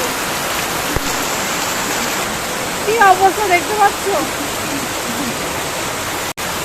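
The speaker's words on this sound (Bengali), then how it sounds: "প্রচন্ড বৃষ্টি হচ্ছে, প্রচন্ড" Heavy rain pours down in a dense, steady roar around a flooded house, loud and unbroken, while a voice briefly talks over it partway through.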